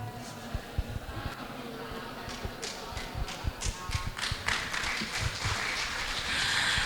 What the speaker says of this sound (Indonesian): Tepuk tangan sekali lagi yang meriah untuk Bapak Sudiono